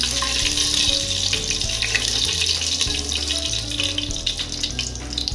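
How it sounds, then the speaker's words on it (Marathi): Whole spices, including cardamom, fry in hot oil for a chicken dish, giving a dense, continuous crackling sizzle that stays loud and steady throughout. "हे सर्व खडे मसाले आपण तेलामध्ये टाकणार आहोत व हे मसाले आपण छान परतून घेऊयात"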